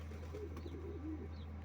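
Domestic pigeons kept in a small loft coo softly, a couple of low rolling calls close by over a steady low hum.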